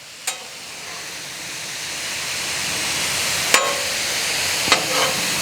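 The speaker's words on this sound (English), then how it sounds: "we're gonna move these mushrooms over here" Mushrooms sizzle steadily on a Blackstone griddle as they are pushed aside, a constant loud frying hiss broken by three sharp metal spatula scrapes.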